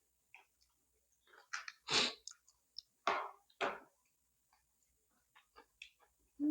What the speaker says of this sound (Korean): 아삭아삭함이